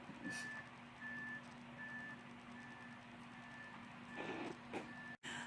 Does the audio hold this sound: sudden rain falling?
no